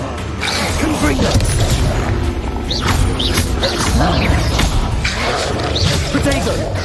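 Confringo explosive spell in the video game Hogwarts Legacy, booming blasts and thuds amid game effects, with voices and dialogue running over much of the scene.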